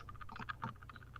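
Soft, rapid clicking of keyboard or mouse keys during an online tabletop role-playing session, faint and steady in a quiet room with no talk.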